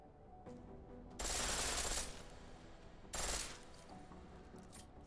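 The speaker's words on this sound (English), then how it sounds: "The pistol in full auto will take down targets fast, but it'll burn through your ammo." A pistol set to full auto in Deus Ex: Mankind Divided: two loud bursts of rapid fire, the first close to a second long and the second shorter, over a low game background hum with no talk.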